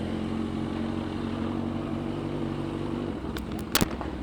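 Road traffic heard from a CFMOTO 750SR S motorcycle with a red exhaust, a steady engine drone and passing vehicle noise, ending in a few sharp clattering knocks close by.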